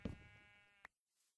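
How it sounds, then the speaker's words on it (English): A single short sheep bleat in the farming game Terra Firma, close and faint, with nothing else heard. "Mrs. Sheep was expecting around September"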